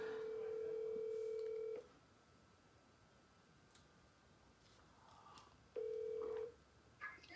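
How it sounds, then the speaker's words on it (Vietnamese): A telephone call being placed: a long, steady electronic line tone, then a quiet pause, then a second shorter tone, heard close and alone without voices. "Thôi để tôi gọi thử coi."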